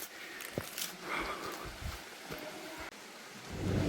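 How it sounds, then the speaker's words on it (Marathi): Broadband water rush from the Milkybar Waterfall in the Sahyadri hills fills the whole span as a steady hiss, moderately loud, with wind buffeting and a few small knocks on the microphone and no talking. "आवाज तर येतो पाण्याचा"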